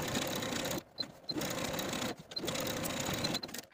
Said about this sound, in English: I'm going to take it to the sewing machine and edge stitch from the top all along the bottom and back up the other side